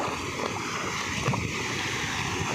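Water runs in a small village stream, a continuous broadband rushing and burbling that stays steady throughout, with wind buffeting the microphone.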